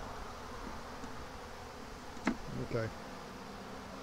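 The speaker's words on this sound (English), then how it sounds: "Plenty of bees in here to start drawing this out." Bees crowd a swarm trap left too long, their low steady buzz filling the background while a person briefly speaks and handles the box with a couple of soft knocks.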